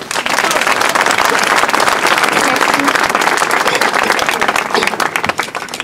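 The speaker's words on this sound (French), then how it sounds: "je vous demande d'applaudir Vanessa" A crowd at a French departmental election campaign meeting claps for a candidate, a dense, loud, sustained wash of applause that holds steady before tapering off at the end.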